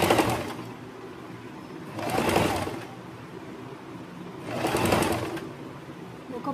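Sewing machine running pico stitching, two short whirring bursts of rapid needle stitching separated by quieter pauses, fairly close and alone.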